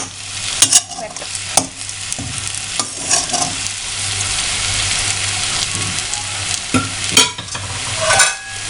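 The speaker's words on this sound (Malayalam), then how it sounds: "ഇളക്കിയതിന് ശേഷം ചെറുതീയിൽ 10 മിനിറ്റ് നമുക്ക് ഈ ചിക്കൻ വേവാനായിട്ട്" Chicken peralan, a Kerala chicken roast, sizzles in a pan over a low flame while a spoon stirs and scrapes it, giving irregular clinks and scrapes over a steady frying hiss.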